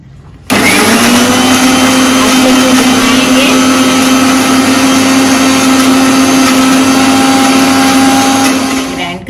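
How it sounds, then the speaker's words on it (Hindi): A mixer grinder blends raw mango with sugar and black salt: a loud, steady motor whine that starts abruptly and holds constant for about nine seconds, with churning and rattling on top, no talking. "उसकी स्किन निकाल के शक्कर डालेंगे और ब्लैक सॉल्ट डालेंगे, फिर इसको अच्छे से मिक्सी में घुमाएंगे।"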